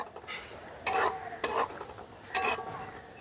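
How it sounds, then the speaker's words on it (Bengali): Cashews and almonds fry in hot ghee while a spoon stirs them, giving three distinct scraping, sizzling bursts close up against a quiet background. "ঘিটা গরম হয়ে গেছে, এর মধ্যে আমি দিয়ে দিচ্ছি কাজু,"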